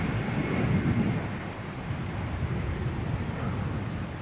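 A Boeing 747 jet airliner passes overhead, a loud, steady low roar that swells slightly early on and then holds as a broad rumble with no voices.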